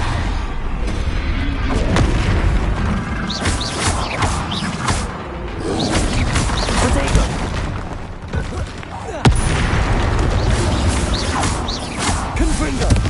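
Confringo and Bombarda spell explosions in the video game Hogwarts Legacy, a dense run of loud booms and blasts following each other rapidly amid ongoing combat noise, with a voice shouting spell names.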